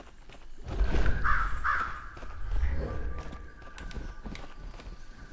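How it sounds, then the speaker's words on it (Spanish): A crow in the video game Eternal Hope caws twice in quick succession, close and clear, over a low rumbling ambience with faint thuds. "El cuervo tiene una máscara blanca."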